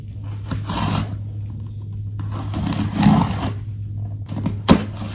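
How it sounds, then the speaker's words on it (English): Scissors cutting open a cardboard package box, a series of rough scraping and rasping strokes with a sharp snip near the end, over a steady low background hum. "so I'm gonna use these scissors"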